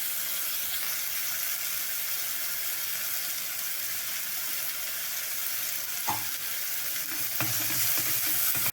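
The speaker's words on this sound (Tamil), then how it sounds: "கடுகு, உளுத்தம் பருப்பு போட்டு தாளித்து விட்டு பச்சை மிளகாய் போட்டிருக்கோம், பூண்டு போட்டிருக்கோம், வெங்காயம், கருவேப்பிலாம் போட்டு நல்லா வணங்கிட்டுருக்கு." Snake gourd sautéing in a pan with mustard seeds, urad dal, green chillies, garlic, onion and curry leaves, a steady broadband sizzle throughout with a couple of brief stirring scrapes near the end, no voices.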